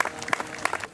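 Scattered clapping from supporters cheering students on a walk from the school to Chardon Square, a few distinct close claps in quick succession outdoors.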